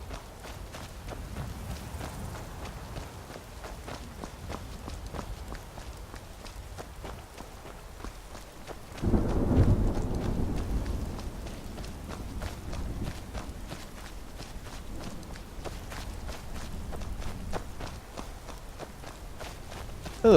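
Rainstorm in Skyrim, with steady rain hiss and a continuous run of footsteps walking through it toward Whiterun; a louder rumbling swell like thunder rolls in around the middle, with no talk.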